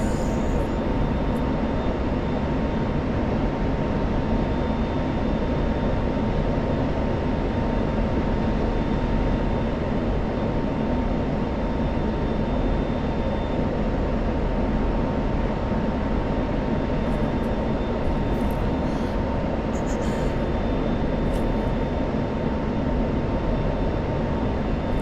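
Steady, loud F-16 jet engine roar in a flight simulator during a Middle East mission, a continuous dense broadband drone with a faint tonal whine throughout, no talking.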